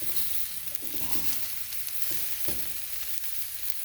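Food frying in a pan with a steady hiss, punctuated by a few soft scraping knocks as pieces are turned over, close and continuous with no voices.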